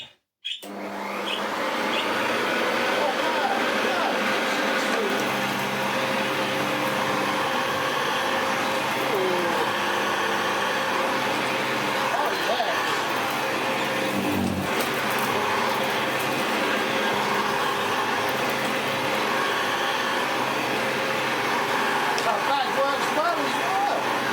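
A restored Hoover Senior 6525e upright vacuum cleaner starts with a thump, then its motor runs steadily with a loud, continuous droning whine and rattly hum that holds nearly unchanged throughout.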